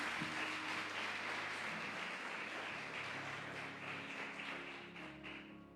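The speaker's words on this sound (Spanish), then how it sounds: "Den un aplauso al Rey." A church congregation applauds, a faint, steady patter of many hands that thins out toward the end, with soft sustained musical tones underneath.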